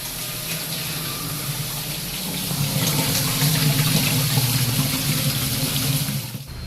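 Water runs steadily from a tap with sloshing and splashing as cut potato pieces for finger chips are rinsed, continuous and close, with no voices.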